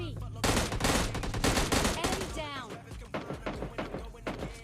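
Bursts of automatic gunfire in PUBG Mobile Lite, loud and close: a long sustained spray followed by a run of shorter rapid volleys, with game ambience underneath.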